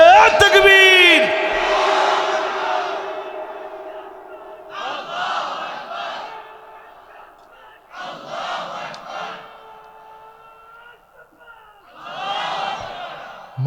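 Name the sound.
crowd loudly chanting takbir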